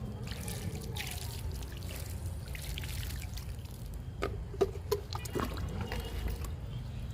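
Water trickles and splashes into a tub of freshly planted mint in a home garden, a steady close pour with a few louder drips near the end.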